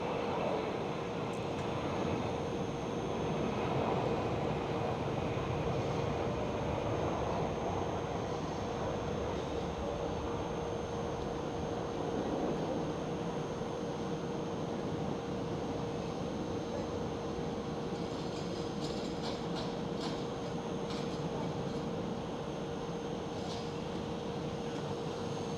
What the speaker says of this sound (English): Next one up for a departure here on runway 18 left is Turkish Airlines A330